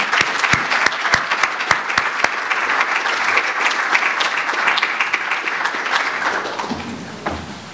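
Audience applause at a youth sports wall of honor dedication, opening with several loud, sharp nearby claps before swelling into dense crowd clapping that tapers off at the end.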